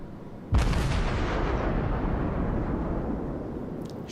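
A volley of heavy cruiser guns from the IJN Myoko fires in World of Warships, a loud sudden boom that rolls into a long, slowly fading rumble with no talk.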